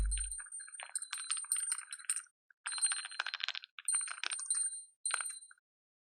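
A plug-in electric doorbell rings with a repeated bright ping-ding chime, a series of clear metallic tones in several bursts with short gaps, close and alone.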